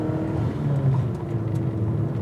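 Porsche 944 Turbo engine during a heel-toe downshift into a corner, a steady loud droning hum from inside the car with a slight blip partway through, no talking.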